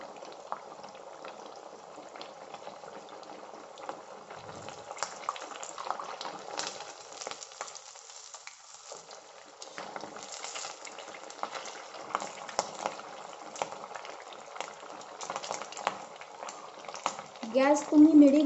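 Rava nuggets deep fry in oil over a medium flame, a soft continuous bubbling fizz with faint clinks building louder toward the end.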